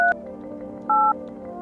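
An old telephone being dialed: two clear touch-tone beeps, a short one at the start and a longer one about a second later, over a steady low hum with no talking.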